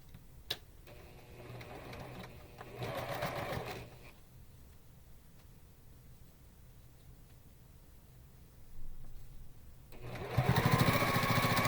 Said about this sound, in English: So I'm going to sew these two together and then we're going to start building this block.